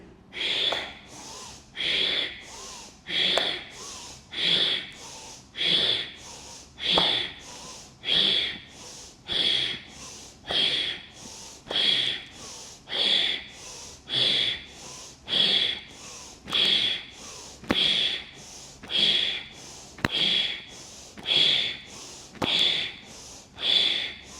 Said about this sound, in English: Now inhale, fill the air and exhale.